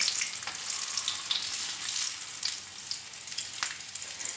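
Egg kebabs sizzle steadily in hot oil, a continuous bright crackle with occasional sharper pops, close and unbroken throughout.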